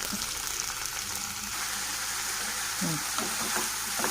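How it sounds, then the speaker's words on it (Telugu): Finely chopped ridge gourd pieces fry with onions in a pan, giving a steady, hissing sizzle that stays even throughout, with a few soft stirring scrapes near the end, heard up close. "తర్వాత సన్నగా తరిగి పెట్టుకున్న పొట్లకాయ ముక్కల్ని ఇందులో యాడ్ చేసేసుకోవాలి"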